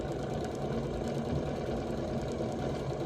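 A sewing machine stitches fabric for a pillow, running in one continuous steady whir with a fast mechanical rhythm, close and moderately loud, with no talk.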